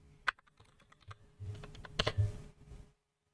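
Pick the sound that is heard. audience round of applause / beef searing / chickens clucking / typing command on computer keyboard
typing command on computer keyboard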